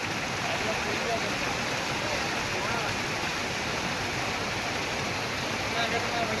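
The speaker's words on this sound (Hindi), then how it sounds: "ऊपर से झरना चालू है ना फूल बरसात चालू है" Heavy rain pours down in a dense, continuous hiss, like water cascading from above, loud and unbroken for the whole stretch with no clear voices over it.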